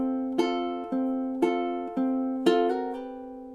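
Ukulele strummed in a steady beat, a firm strum followed by a lighter one repeating across the bar, with chords ringing between them, close and clear with no voices.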